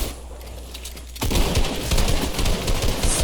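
After a quiet start, a sudden burst of rapid Fortnite gunfire erupts and continues as a dense, crackling stream of shots.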